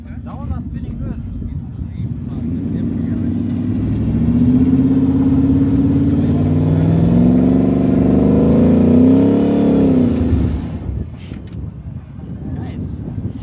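A truck engine revs and its wheels spin, building to a loud, sustained rising roar for several seconds before dropping off abruptly, with wind buffeting the microphone and voices talking around it.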